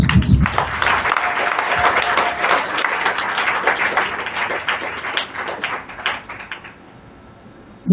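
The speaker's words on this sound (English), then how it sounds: "Clap for Jesus Christ." Congregation at a church service clapping together, a dense sustained burst of hand claps that fills the space and fades toward the end.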